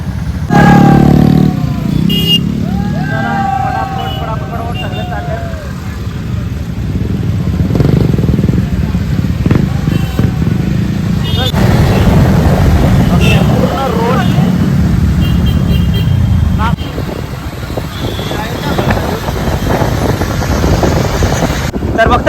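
Motorcycles in an outdoor bike rally, engines droning and revving loudly and continuously, close by, with wind buffeting the microphone and voices talking over the noise.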